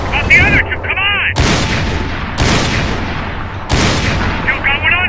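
Heavy gunfire in the Max Payne 3 video game: loud booming shots and bursts in repeated waves, mixed with shouted voices between volleys.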